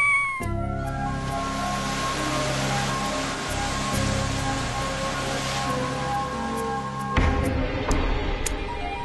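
Kittens meow repeatedly over a steady, hissing background noise, the cries fairly close and persistent throughout.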